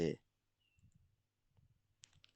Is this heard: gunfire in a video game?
no